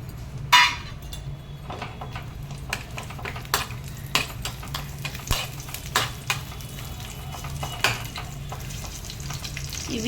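Small onions fry in hot oil with a soft, steady sizzle, broken by sharp clinks and scrapes of a utensil against the pan at irregular intervals, close and moderately quiet, without speech.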